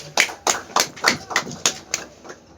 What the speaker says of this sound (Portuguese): Salva de palmas para eles, por favor.